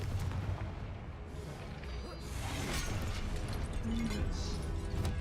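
A Confringo blasting spell explodes in Hogwarts Legacy amid dense battle noise, with bursts and booms layered over constant rumbling combat sounds and a brief voice in the mix.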